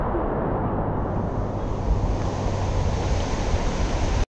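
A river swollen by monsoon rain rushes loudly and steadily, a dense continuous roar of water close by with no speech.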